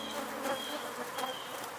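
Wild pollinator bees buzzing in a steady insect drone, a continuous hum with faint brief swells, moderately quiet and without voices.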